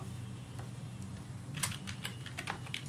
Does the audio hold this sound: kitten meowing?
no